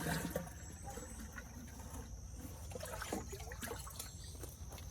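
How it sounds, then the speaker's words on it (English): Rainwater poured onto a freshly air-layered lemon tree, a steady faint trickle and splash of water running into soil for several seconds, with no talking. "So all we're gonna do is take our rainwater and water him in good."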